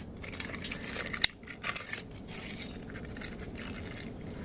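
Cellophane wrapper being peeled and crinkled off makeup packaging, with close, irregular crackling bursts, one sharp snap, then quieter intermittent rustles.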